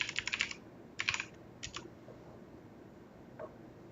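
A few quick runs of keystrokes on a computer keyboard, crisp and close, come in short bursts with brief gaps, followed by a single faint tap, in an otherwise quiet room.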